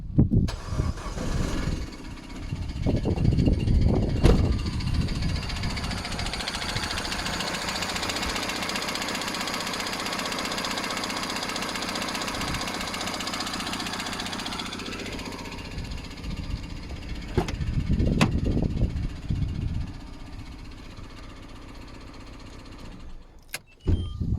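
A faulty Peugeot engine cranks and catches, then runs with a steady, rough drone before it is revved and cut off, with a second start attempt near the end.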